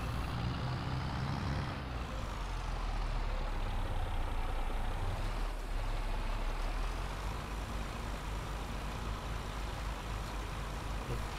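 A farm machine engine runs loud and close at a field being readied for planting, a steady rough drone that shifts in pitch as it revs, continuous throughout with no talking.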